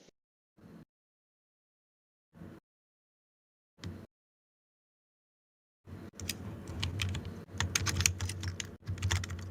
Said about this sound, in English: We can hear you typing, by the way.